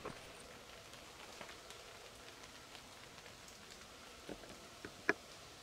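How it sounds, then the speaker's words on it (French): Water drops shaken from leaves by the wind after rain near old quarries fall in scattered, irregular ticks and pats against a soft steady hiss, with a few sharper close drops toward the end. "c'est le vent qui fait tomber les gouttes qu'il y a sur les feuilles"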